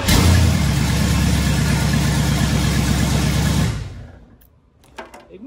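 A 1965 hot rod truck engine with a custom frame runs at a steady, rough idle close by, then cuts off abruptly, leaving a few faint clicks and rattles in the quiet.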